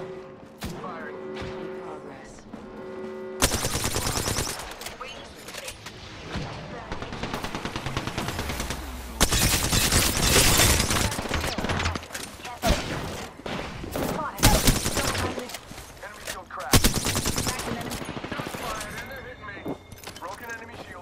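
Video game gunfire in a team battle-royale match, with loud bursts and rapid automatic volleys coming in repeated waves over a dense game soundscape, while a voice speaks intermittently beneath the shooting.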